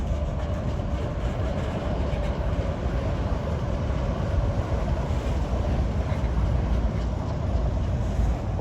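Norfolk Southern freight train hauled by General Electric locomotives rolling past on the Pittsburgh Line, a loud, steady rumble of wheels and cars close to the microphone with some wind buffeting, no voices.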